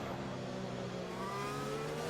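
Race car engine in the F1 2021 video game holds a loud, steady high-pitched drone with rising harmonic tones as it accelerates, continuous throughout with no talk.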